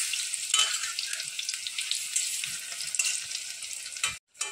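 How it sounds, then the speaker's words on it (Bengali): Banana flower pakoras, made without onion, sizzle steadily in hot oil, a loud continuous frying crackle with small stirring noises, ending in a brief pause. "এক পিঠ হয়ে গেলে আর এক পিঠ উল্টে দিয়ে আমি এটা ভালোভাবে ভেজে নেব।"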